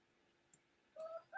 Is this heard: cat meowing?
no